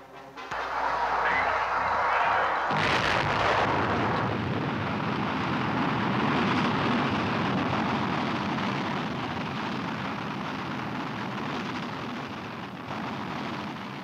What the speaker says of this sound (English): the Army rocket team, which fired Pioneer 4 with its powerful Juno rocket